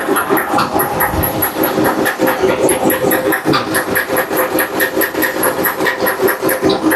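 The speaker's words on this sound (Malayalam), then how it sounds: "ഇവിടുന്ന് അപ്പുറത്തെ സൈഡിലെ വെള്ളം അടിച്ച് അങ്ങോട്ട് ഇപ്പുറത്തെ സൈഡിലോട്ട് വിടുവാണ്" A motor pump in Kallara, Kottayam, pumps water from one side to the other, running nearby with a steady, rhythmic chugging and clattering beat, loud and unbroken throughout, with no voices.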